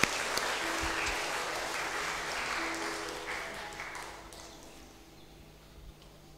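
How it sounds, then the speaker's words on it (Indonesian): Congregation applause during a church service, broad steady clapping from many people that gradually fades over several seconds, with no talking over it. "kita berikan tepuk tangan untuk saudara dan saudari kita."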